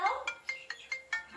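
A phone ringtone plays a short repeating electronic chirp about five times in quick, even succession, close and clear.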